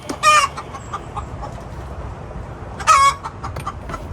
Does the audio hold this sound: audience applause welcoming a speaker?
no